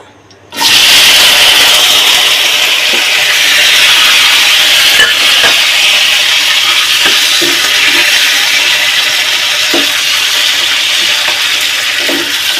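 Onions dropped into hot oil in a pan begin a sudden loud, steady sizzle that carries on close and unbroken, with a few faint clinks of stirring.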